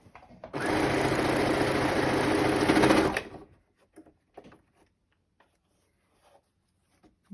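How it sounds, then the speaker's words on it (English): Sewing machine stitching along the outer edge of a fabric mask, a fast steady whirring buzz for about three seconds, then stopping, followed by faint handling clicks. "And I'm going to sew along this outer edge here."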